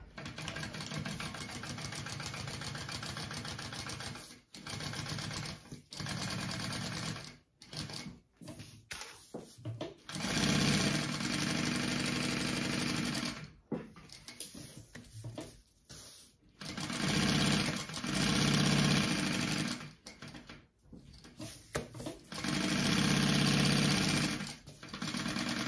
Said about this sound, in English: I will go ahead and just baste the rest of my pocket closed so my two layers are sewn shut